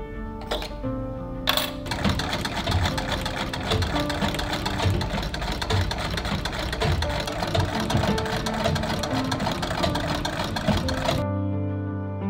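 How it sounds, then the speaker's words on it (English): A sewing machine runs steadily and loudly, stitching basted French seams on striped fabric for an 1890s Victorian split skirt, with a couple of brief clicks before the continuous motor hum that stops abruptly near the end. "I am first basting each folded seam before the final row of stitching is put into place."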